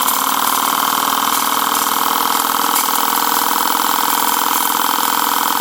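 A Boucher S62 steam engine fed by a CF2 boiler runs steadily, a loud, close, continuous mechanical hum and hiss with fine rapid pulsing throughout.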